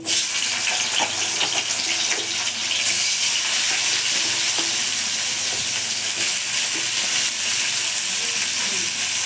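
Sliced onions frying in oil in a pan for egg curry, a steady loud hiss and crackle that runs through the whole stretch with no talking.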